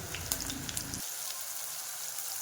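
Garlic sizzles in hot oil as a steady, close crackling hiss. A low rumble underneath drops away after the first second, leaving the sizzle alone.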